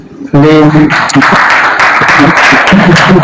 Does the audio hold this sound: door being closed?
no